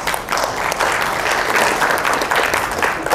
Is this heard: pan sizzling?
no